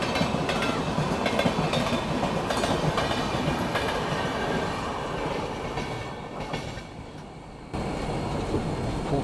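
The Kerala Express speeds past on a parallel track, a dense rushing roar with rapid clickety-clack of wheels heard from a moving train, fading briefly before the steady rail noise resumes.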